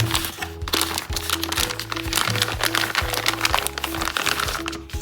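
A plastic package from a Labubu toy crinkles and crackles while being handled, loud, close and continuous throughout, with no speech.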